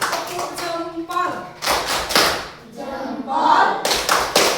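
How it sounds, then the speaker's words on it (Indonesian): A school class claps in bursts, close and fairly loud, with children's voices chanting and talking over the rhythmic clapping. "Kita kasih dulu tepuk tangan, jempol ya."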